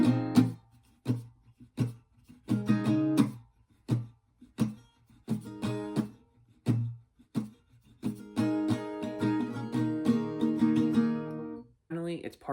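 Acoustic guitar strums the second part of the chorus of a song, choppy muted strokes giving way to sustained ringing chords, close and clear, with no singing.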